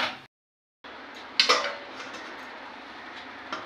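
A metal pot and ladle while chicken curry is poured into a big bowl: a couple of brief, bright clinks of metal on metal against a quiet kitchen background, with one faint tap at the end.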